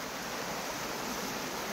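Storm floodwater rushing down a swollen river makes a loud, steady broadband roar that continues unbroken and close throughout.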